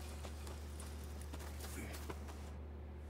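Hooves of a heavy Shire horse clip-clopping at a stable in the Red Dead Redemption II video game, a quiet series of irregular hoof clops over a low steady hum.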